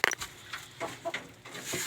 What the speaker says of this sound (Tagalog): Luko-luko itong manok na ito.